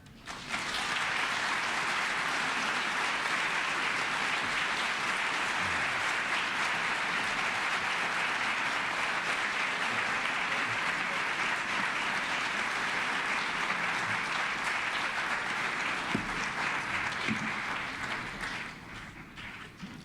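Sustained audience applause fills the room after a lecture on the history of Tlatelolco, a dense, steady clapping that holds strong for most of the stretch before tapering off near the end.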